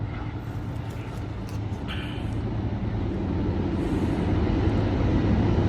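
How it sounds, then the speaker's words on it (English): An Amtrak Coast Starlight passenger train led by a P42DC diesel locomotive approaches the Oakland Coliseum station, a deep engine rumble building steadily louder over several seconds, with a brief higher whine partway through. "here comes the train. It's a P-42 DC leading off."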